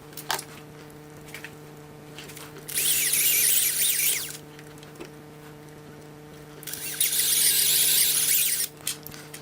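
A power drill bores a hole in a broken plastic part to seat rebar, two sustained whining bursts of a couple of seconds each with quieter pauses and a low steady hum between, close up.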